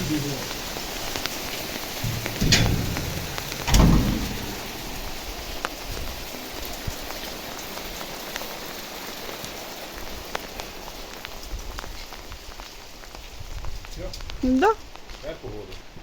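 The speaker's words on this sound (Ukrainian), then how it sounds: "Це вже град." Pattering hail and rain striking surfaces steadily in mid-October in Kyiv Oblast, Ukraine, with a few louder thuds and knocks and some brief background noises.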